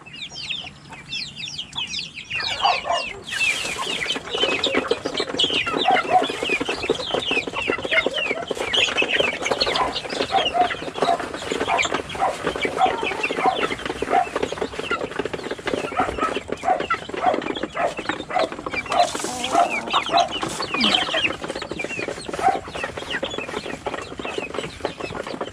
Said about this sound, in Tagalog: kadudungis nitong mga manok na to.